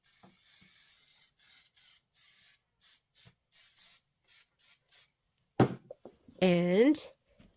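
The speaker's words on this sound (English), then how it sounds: "I'm going to give it a nice liberal shot of spray." Spray bottle spritzing fabric during quilting, a quick series of short, evenly spaced sprays, then a brief rustle and a clunk near the end.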